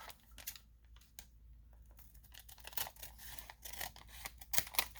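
Scissors snip through the bottom of a paper pharmacy bag, giving a run of crisp cuts and papery crackles that grow busier and louder toward the end, close by with no talking.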